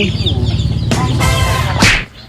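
Chickens cluck and squawk close by in short bursts, with a sharp cry near the end, over steady background noise at a feeding spot.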